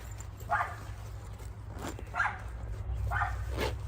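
A dog barks a few times at a distance, with faint, evenly spaced barks over a low background hum.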